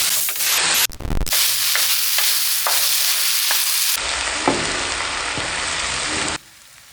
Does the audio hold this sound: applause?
no